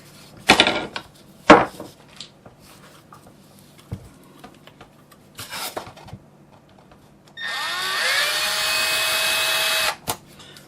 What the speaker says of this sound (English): can run your screws in there to pre-drill them